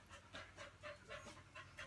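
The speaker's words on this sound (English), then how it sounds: "That's my dog." A dog pants indoors in quick, rhythmic breaths, soft and close, with about seven breaths over two seconds and no one talking.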